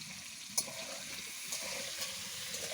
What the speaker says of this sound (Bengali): হলুদ আর লবণ দিয়ে ডিমটাকে একটু ভেজে নেবে।